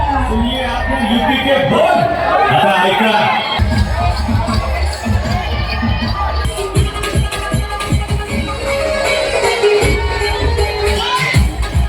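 Crowd at a Dahi Handi festival in Wadala cheering and applauding a first-year Govinda troupe after it forms five human tiers; dense, loud, continuous crowd noise with clapping and shouting, and a voice speaks briefly over it.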